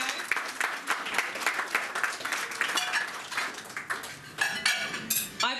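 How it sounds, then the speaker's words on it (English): Conference audience in a Birmingham hotel function room claps for published authors, a dense burst of applause with some clinking of cutlery and dishes mixed in, lasting the whole stretch before fading toward the end. "let's give these guys a round of applause"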